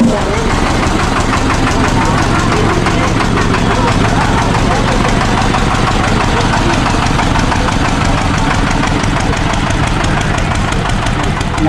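A boat engine starts and runs on a ride at Poolampatti, settling into a loud, continuous rattling chug close by, with people talking over the steady mechanical knock.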